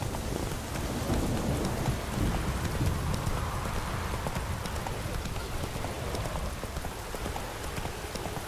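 Roach, a horse in The Witcher 3 video game, gallops with rapid clip-clop hoofbeats blended into a dense rainy wash, steady and close throughout.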